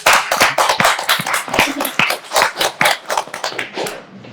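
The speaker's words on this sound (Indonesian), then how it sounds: "tepuk tangan untuk kita bersama" Clapping from a small group during a podcast recording about elections, close and loud, with quick uneven claps that trail off toward the end.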